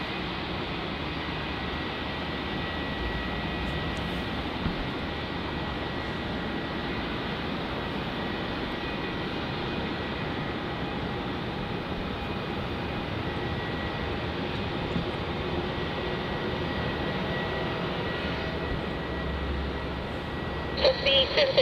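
Qantas jet on the runway at Melbourne Airport in wet weather, a steady, distant engine roar with a high whine that holds constant throughout, with faint radio chatter mixed in.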